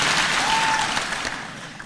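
A congregation at a PCEA church thanksgiving service in Nairobi claps, a full, loud wash of applause that slowly fades away.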